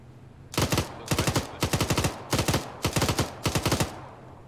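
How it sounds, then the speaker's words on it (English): Six loud, close bursts of automatic gunfire in the ARMA military video game, each a rapid cluster of shots separated by short pauses, with no talking. "They're shooting through the trees, aren't they?"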